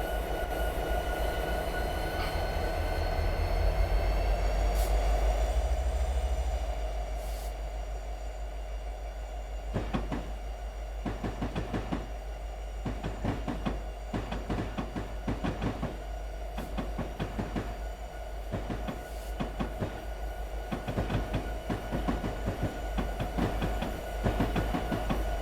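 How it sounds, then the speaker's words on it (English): Locomotive running along the track in Train Simulator 2020: a steady loud rumble with tonal hum, then a long run of rhythmic wheel clicks over rail joints, close and continuous with no talk. "watch as the signal changes as the locomotive ahead progresses down the track"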